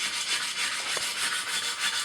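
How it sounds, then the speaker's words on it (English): Steady, close scraping and rubbing as a sanding block works over the lip of a classic aluminum alloy wheel, with a continuous gritty hiss and a faint rhythmic push-pull pattern and no talking. "I'm gonna hit that with a sanding block and the same grit that's on there right now"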